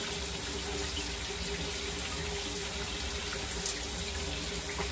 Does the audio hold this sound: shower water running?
yes